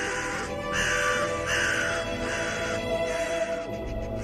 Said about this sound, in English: At which time all the ravens in the tree started to caw